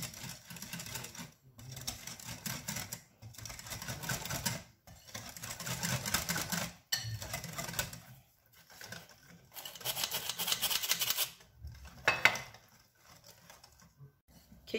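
Lemon brownie batter being stirred in a bowl: a steady scraping, whisking rhythm that comes in repeated bursts with short pauses between, close and moderately loud, with no voices over it.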